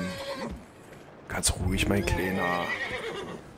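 A horse in the video game Red Dead Redemption 2 gives a short whinny partway through, with someone speaking calmly in German around it.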